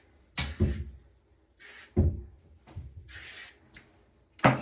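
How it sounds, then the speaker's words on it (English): An aerosol can of thermal protectant hair spray hisses out in several short bursts separated by pauses and handling sounds, close to the listener, the last spray ending abruptly. "And it's an aerosol, so that just makes life so much easier."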